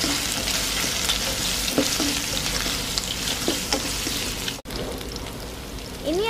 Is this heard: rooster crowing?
no